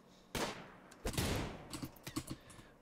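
Gunfire from colonists in the colony-management video game RimWorld, with a burst of shots followed by several quick, sharp reports in an uneven rhythm, close and fairly loud with no talking.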